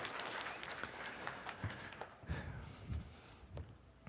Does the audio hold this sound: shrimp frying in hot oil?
no